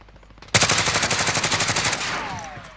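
Rapid gunfire from a sniper in the video game Call of Duty Warzone, a sudden loud burst of repeated shots in a quick steady rhythm, continuing for about two seconds before fading into a ringing tail.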